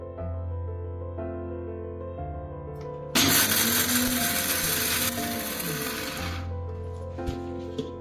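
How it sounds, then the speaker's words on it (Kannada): A kitchen mixer grinder coarsely grinds dry thambittu ingredients without water. A low mechanical hum and ticking rattle lead into a loud three-second whirring grind, then the hum returns with a few light clicks. "ಇದನ್ನು ಮಿಕ್ಸಿಗೆ ಹಾಕ್ಕೊಳ್ಳೋಣ ಇದನ್ನು ನುಣ್ಣಗೂ ರುಬ್ಕೋಬೇಡಿ ನೀರು ಹಾಕಬೇಡಿ"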